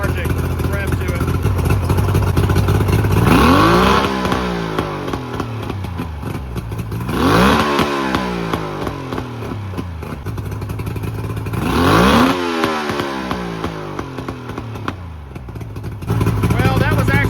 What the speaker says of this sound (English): I'm gonna rev it up one more time, see if it's still got that lethargic rev to it